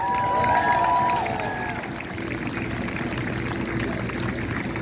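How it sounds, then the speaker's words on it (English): Crowd at an outdoor 1965 freedom rally anniversary event applauding and cheering for the vendors, a steady roar of noise that swells at the start and then holds level. "One round of applause for all of our vendors here today."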